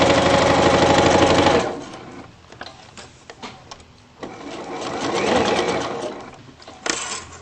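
A home sewing machine stitching a waistband runs in a fast, steady whir, stops, then starts again in shorter bursts with clicks and handling noises between.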